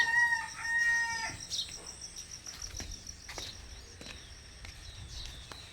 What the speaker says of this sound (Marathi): चला कोंबड्यांनो गुड मॉर्निंग गुड मॉर्निंग कोंबड्यांनो